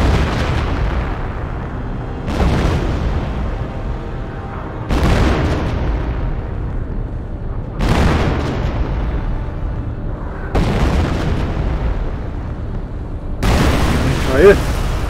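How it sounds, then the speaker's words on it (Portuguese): Aerial bombs exploding in Company of Heroes, a series of five heavy booms spaced a few seconds apart, each with a sharp onset and long rumbling decay over steady battlefield noise. "Essa bomba aérea."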